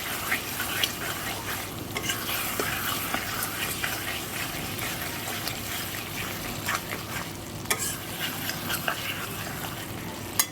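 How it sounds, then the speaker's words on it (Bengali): Mutton kosha is stir-fried on low flame, a dense continuous sizzle with busy stirring and scraping of the pan, close and steady for the whole stretch, no voices. "একদম লো ফ্লেমেই কিন্তু কষে নিচ্ছি এটা আমি।"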